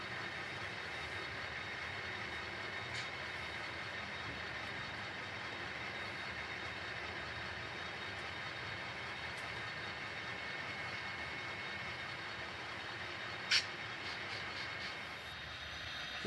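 A model railroad train runs steadily on a shelf layout during an operating session, carrying cars from the B&O to Canton, with a constant low rumble and one sharp click near the end.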